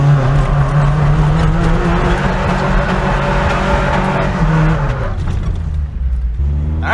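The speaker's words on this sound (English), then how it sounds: "This thing definitely does spinny, drifty things." An old Toyota truck spins a small donut, its engine droning steadily with tire noise throughout, then easing off and dropping in pitch near the end.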